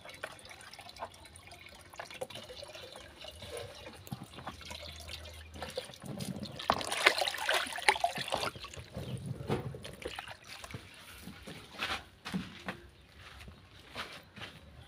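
Water pouring and splashing into a plastic box used to house a softshell turtle, a steady running wash that swells louder midway with drips and sloshing, heard alone without talk.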